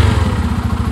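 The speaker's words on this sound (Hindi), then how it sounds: "चाबी लगाते हैं और पहला सेल्फ मारते हैं" Motorcycle engine chugging close and loud with a steady rapid low pulse, heard alone without talking.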